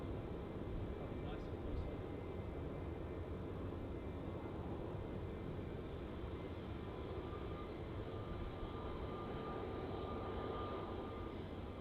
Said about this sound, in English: on screen now we have that Jetstar A320neo, which just landed before